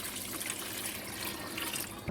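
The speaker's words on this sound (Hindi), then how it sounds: "अब 3 गिलास में पानी डालेंगे, उसको अच्छी तरह मिक्स करूँगी।" Water from three glasses poured into a bowl of vinegar, salt and garlic-ginger paste for a chicken steam roast marinade, a steady close splashing trickle with no talk.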